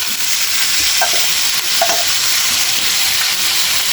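Pork fat (limpo) hits a hot pan for Bicol-style dinuguan with burnt coconut, giving a steady, loud broadband sizzle with a couple of brief scraping stir sounds near the start.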